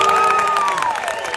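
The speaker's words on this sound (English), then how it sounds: "I think we should give a round of applause for James." Audience members at the premiere of The Book of Clarence applaud and cheer, loud close clapping mixed with rising and falling whoops that trail off over a brief moment.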